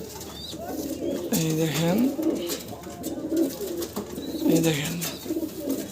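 Pigeons coo in repeated rolling, throaty calls at close range, with someone talking over them.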